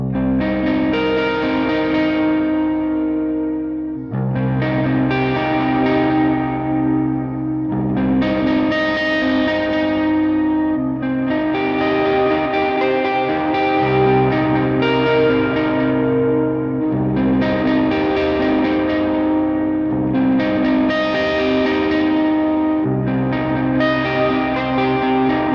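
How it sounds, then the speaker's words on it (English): Electric guitar played through a Valeton GP-5 multi-effects preset with echo delay and spacious reverb, sustained chords and melodic phrases ringing out steadily with repeating echoes and a wash of ambience, loud and alone with no talk. "The sweet echo delay and the sweet space reverb though work really nicely on this preset."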